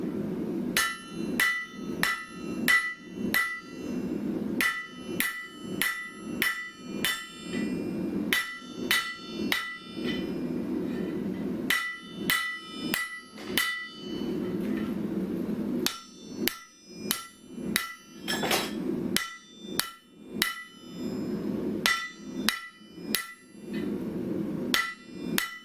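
A rounded hammer strikes metal to spread and flatten a groove. The sharp ringing blows come in quick bursts of four to six, separated by short pauses, close and loud over a steady low hum.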